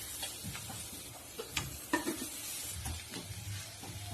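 Paneer being mixed into a potato stuffing in a pan for stuffed capsicum, with steady scraping strokes of a spoon over a soft background sizzle, close and fairly quiet, no talking.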